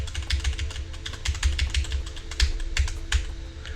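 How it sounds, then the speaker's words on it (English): Rapid, loud clicking of a new mechanical keyboard being typed on up close, a dense stream of sharp keystrokes with no talking. "You bought yourself a new mechanical keyboard and you're not used to the racket it makes when typing?"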